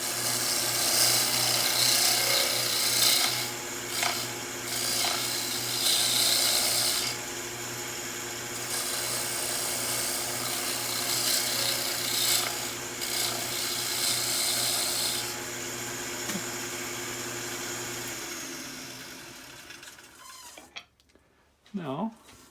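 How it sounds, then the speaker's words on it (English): A bowl gouge rides its bevel across a laminated wood bowl spinning on a lathe. The hissing, scraping cut comes in several bursts and pauses, then the sound drops away near the end as the work stops. "I'm going to use my old bowl gouge again, and just kind of riding along on the bevel."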